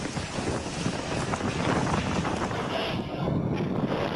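Strong wind roars and buffets the microphone in a continuous, loud rush with no speech.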